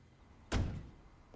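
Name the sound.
door slam in TV episode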